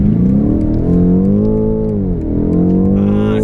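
BMW M850i at full throttle to the rev limiter, a loud, close engine note rising steeply, dipping briefly at a shift, then climbing again toward the limiter.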